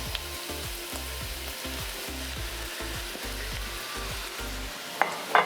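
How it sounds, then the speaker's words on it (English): Roughly chopped onions and leeks sizzle steadily in a hot pan for green shakshuka, a continuous crackling fry with a couple of brief clinks near the end and no talking. "we are going to add in our roughly chopped onions and then our roughly chopped leeks"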